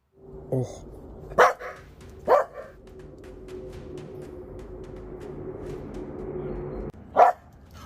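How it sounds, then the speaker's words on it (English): Dog barking in the background of a radio talk show segment, with a few sharp, separate barks spread across the clip over a steady low hum, some distance away and alone with no talk. "Dog still barking in the background there?"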